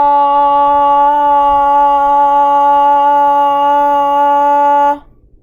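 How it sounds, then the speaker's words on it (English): A single voice sustains a steady 'ah' vowel as a voice exercise, loud and even for about five seconds, then cuts off cleanly, with nothing else underneath. "we're going to hold that ah for 5 seconds"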